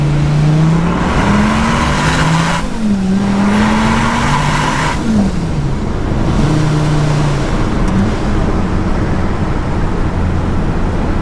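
A boosted 1,200-horsepower Dodge Viper accelerates hard in first gear, its engine roaring loud and close with rising revs and tire noise, pitch climbing in sweeps and briefly dropping before surging again.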